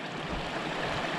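Flowing river water runs over pebbles along a nature trail in Saidė, Lithuania, a soft, steady rushing wash heard at a distance with no talking.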